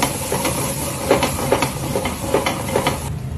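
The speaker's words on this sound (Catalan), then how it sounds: "aquí tenim una aigua bullint, aigua mineral d'ampolla" Bottled mineral water boils in a pot, ready for a seafood paella broth, giving a steady close hiss of steam with soft, regular bubbling pops throughout.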